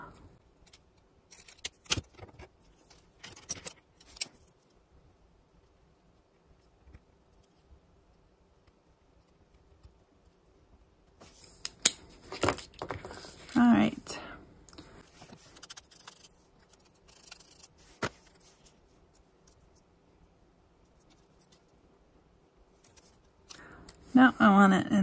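Scissors cut paper for artist trading cards in scattered close snips and scrapes, with a quiet stretch in the middle and a busier cluster of crisp cuts and paper handling near the end, with a person talking occasionally.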